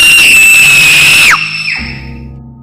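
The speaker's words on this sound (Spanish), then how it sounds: "fue cuando vio la escena tan atroz de Eric, y ella, soltaría un grito" A woman lets out a loud, sustained high-pitched scream for over a second that abruptly breaks off, followed by a fading echo-like tail.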